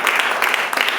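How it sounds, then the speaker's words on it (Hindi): Church congregation at a Hindi worship service clapping: a dense, steady wash of applause fills the whole brief moment at a loud, even level. "परमेश्वर की आप ताली दे सकते हैं।"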